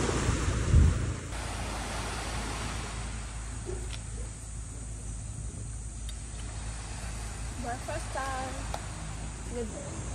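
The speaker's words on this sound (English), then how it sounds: "The ocean is tranquil and the water is pristine." Ocean surf at a beach in Puerto Galera, a broad wash with wind buffeting the microphone, a brief thump near the start, then a softer roar with faint voices and calls in the background.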